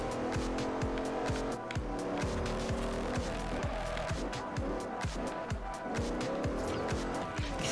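Cars race and drift in Forza Horizon on the Xbox 360, with loud continuous engine roar and repeated tire squeals and skids across the whole stretch, busy and dense without pause.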